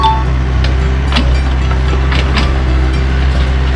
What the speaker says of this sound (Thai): เรามาดูตอนนี้รถแบคโฮก็เริ่มทำงานนะครับ